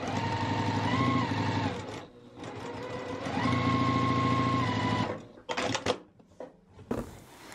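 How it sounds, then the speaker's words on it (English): A sewing machine stitches quilt block rows together for a beginner quilt block, running in two long steady whirring passes with a brief pause between, followed by a few short clicks and fabric handling at the end. "we're going to sew these top and bottom rows together"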